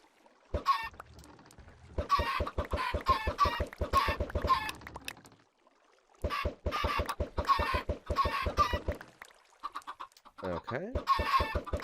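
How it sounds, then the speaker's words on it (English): Video-game chickens cluck in rapid repeated bursts, loud and close, several groups of clucks separated by brief pauses, with a short squawk near the end; no talking. "throw a bunch of chickens down there"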